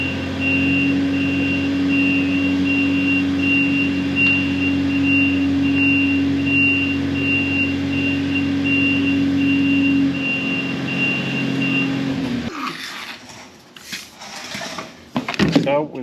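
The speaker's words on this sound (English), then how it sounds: "we're just going to use the bucket and go easy and get this trailer pushed into the barn" A farm tractor idles with a steady engine drone while its front loader bucket eases a trailer into a barn. A repeating high beep runs over it, then the engine cuts away to clatter and knocks near the end.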